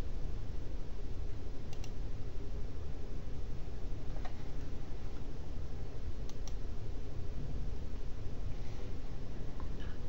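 A few faint, sharp computer mouse clicks, spaced seconds apart, sit under a loud, steady broadband hiss.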